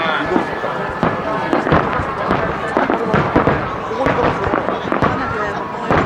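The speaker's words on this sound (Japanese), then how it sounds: "現在、フィナーレの花火が上がっております。" Finale fireworks explode over and over in a dense, crackling barrage of booms and pops, loud and continuous, with voices faintly in the background, at the Chichibu Night Festival fireworks show in Japan.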